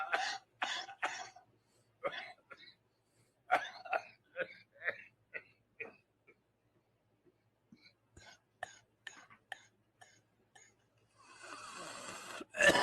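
A man coughing in a played-back recording, with repeated short, raspy cough bursts and throat-clearing in uneven clusters, fairly quiet, followed by a rising noisy rush at the end.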